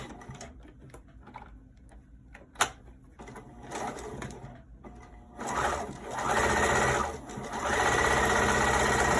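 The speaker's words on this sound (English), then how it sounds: "I'm doing about 1/4 inch seam in the back stitch" A sewing machine runs a quarter-inch back-stitched seam, starting with a few slow, halting stitches, then whirring up into a loud, steady mechanical chatter for the last few seconds. Close and clear, with no voices.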